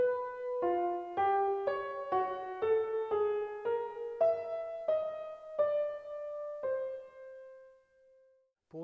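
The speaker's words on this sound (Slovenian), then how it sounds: "12 tonov, ki jih je izbral, zveni takole." A twelve-tone row from Wolfgang Grimm's first symphony, played as a sequence of separate sustained tonal notes at a steady, even pace, the last note held and fading out, with no talk.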